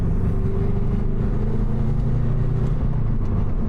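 A car with an aftermarket exhaust runs loud and close, a deep steady engine rumble with a low droning note that holds throughout without clear breaks.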